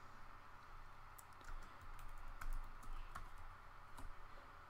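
Keys tapped on a computer keyboard, a quiet run of irregular clicks over steady room hum, a few strokes landing louder in the middle.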